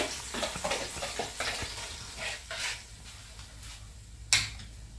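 Blended tomatoes, onions and pepper hit a hot pot for Nigerian egusi soup, giving a low sizzle with scattered stirring scrapes and one sharp clack near the end.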